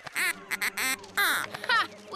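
A cartoon duck quacks in a rapid series of nasal, voiced calls, close and clear, performed by a voice imitating a duck.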